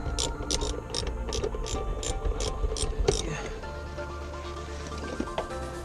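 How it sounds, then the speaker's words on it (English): A ratchet fitted with a 10mm socket and extension clicks in a quick run of about nine sharp ticks over the first three seconds, close and clear, working on the center console of a 2013 Subaru WRX, then fades to low rustling. "grab our 10mm socket and get a ratchet with an extension"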